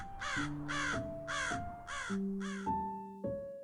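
A raven caws five times in a steady rhythm, clear and fairly close, set against sustained ambient music tones in a dreary atmospheric soundscape.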